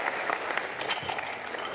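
Audience applause at a Cégep de Shawinigan science competition event, a dense, steady wash of many hands clapping throughout, moderately loud and without talk.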